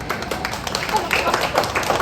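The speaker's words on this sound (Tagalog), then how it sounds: "Palakpak." Brief clapping from a church congregation at a Filipino baby dedication service, heard as a short spell of scattered claps mixed with voices.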